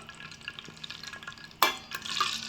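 Sliced bitter gourd fries in a pan as a spoon stirs it: a soft sizzle runs throughout, broken by a sudden sharp scrape and clatter of stirring, then louder, busier frying.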